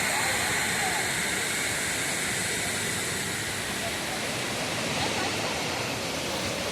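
Panchalinga waterfall in the Thirumoorthy hills pours with a dense, unbroken roar of rushing water, loud and close, filling the whole stretch without pause.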